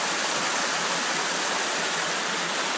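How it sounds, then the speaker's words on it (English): A mountain brook on the Beaver Brook trail on Mt. Moosilauke rushes over rocks into small pools, a steady, loud, full-bodied wash of water close by with no talk. "The brook's right here. Little pools in here."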